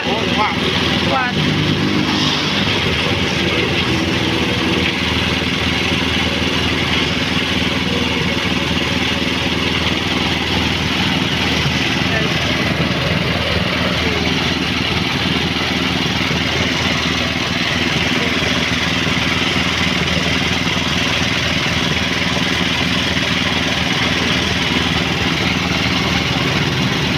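Steady mechanical drone of a newly bought engine driving a sugarcane juice press at a roadside iced cane-juice stall, running continuously up close while people chat over it.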